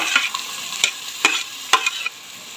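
Chopped capsicum stir-fried for veg fried rice, a steady close sizzle broken by three or four sharp spatula scrapes against the pan, with no voices.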